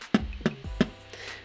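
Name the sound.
voice imitating a bass drum sound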